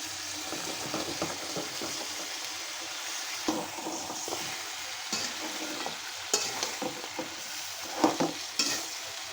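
Flat beans and eggplant hit a frying pan with potatoes already cooked down for a Bengali bean curry with fish, giving a steady close sizzle broken by scrapes and clatters of stirring, with no talking.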